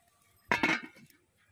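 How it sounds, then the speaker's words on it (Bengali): A metal lid is set on a pot of milk cooking for rasmalai, giving a short clattering clink with a quick rattle that settles within half a second in an otherwise quiet kitchen. "ঢাকনা দিয়ে দেব।"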